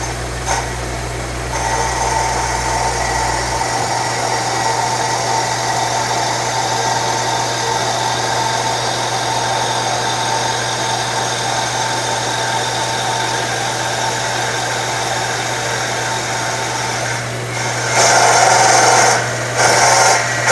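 A CNC wood lathe runs with a steady mechanical whine and drone while a hand-ground high-speed steel cutter works the wood, a continuous close hum with a louder shift near the end.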